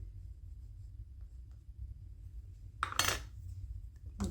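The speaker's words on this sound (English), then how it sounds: "I take with the spatula some brown" A metal palette spatula picks up brown watercolor paint with a single brief scrape and click, close by in an otherwise quiet room.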